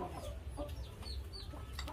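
Chickens clucking nearby in short, repeated bursts of clucks over a steady low rumble of background noise, with no talk.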